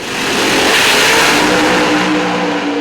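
Pro Stock doorslammer drag cars at the PDRA Doorslammer Derby in Bowling Green, Kentucky, launch off the line in a loud, sustained engine roar that holds steady for about three seconds, with revving tones rising near the end.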